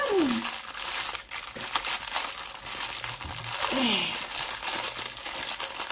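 Plastic wrapping on a diamond painting kit package crinkles steadily up close while someone talks over it, with faint high-pitched voices in the background.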